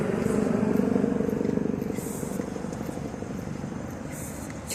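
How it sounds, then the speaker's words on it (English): A helicopter flies overhead above a Chicago South Shore beach walk in February, a steady low rotor chop and engine drone at moderate distance, with a faint hiss of background air. "we got a helicopter driving around in the air"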